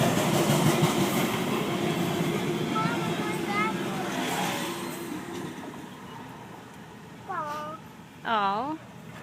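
A passing train in New Mexico rumbles steadily and fades, with a few high horn-like tones near the end as someone talks to a small child over it.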